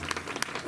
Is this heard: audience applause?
yes